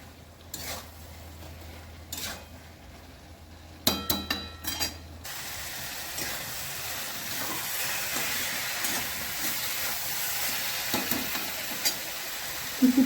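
Prawns and bottle gourd being stirred in a pan: a few spoon knocks come first, then a steady close sizzle of frying with soft scraping runs on to the end.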